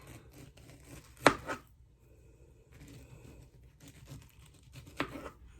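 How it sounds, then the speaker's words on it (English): A knife cuts through peaches for a cobbler in a few quiet strokes, with one sharp slicing crunch and a softer cut later amid light handling noise. "I'm just gonna cut this in slices"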